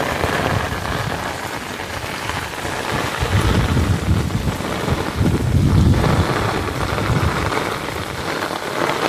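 Heavy rain pours down in the Sertão with strong gusting wind buffeting the microphone, a dense steady roar that swells louder midway, with no voices.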